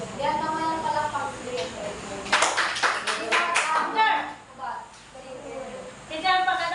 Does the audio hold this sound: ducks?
no